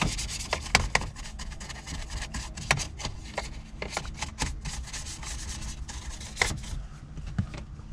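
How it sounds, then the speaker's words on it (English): Brush bristles scrubbing the interior trim of a BMW during detailing: continuous dry scratchy rubbing with quick repeated strokes and occasional sharper flicks, close and steady, no talking. "Dry brush."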